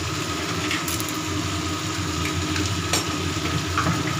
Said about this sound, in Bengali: তেল ছেড়ে এসেছে, ভালো করে পটল কষিয়েছি